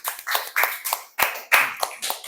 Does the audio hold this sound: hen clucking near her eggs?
no